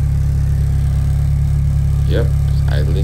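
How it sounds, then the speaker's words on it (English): A Honda D16A6 VTEC car engine idles steadily after street tuning, a loud, even low rumble close by, with someone speaking briefly near the end. "Yep, idling stable."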